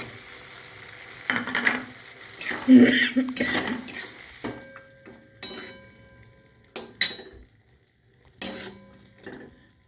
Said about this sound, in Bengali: এরপর সব নেড়ে চেড়ে এবার এই মটরগুলো এর মধ্যে দিয়ে দেব